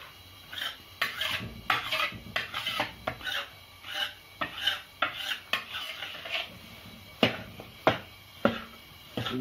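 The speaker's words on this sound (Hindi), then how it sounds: "आटे को बराबर सिकाई करने के लिए हिलाना पड़ेगा" About 6.5 kg of wheat flour roasting in roughly 5 kg of pure desi ghee in a large pot, stirred in repeated scraping strokes with a faint sizzle beneath, close and rhythmic, no talk.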